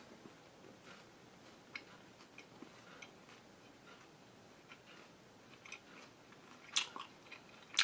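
Someone bites into and chews a chocolate pistachio protein bar from Bariatrics Nutrition: quiet, close mouth sounds and soft clicks, ending with a few sharper, crunchy bites.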